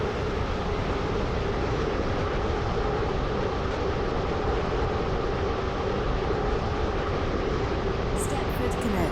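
Train rolling steadily in a Stepford Connect service game, a continuous broadband rumble with a faint tonal hum, loud and unbroken throughout, with a brief sharper rattle near the end and spoken announcements over it.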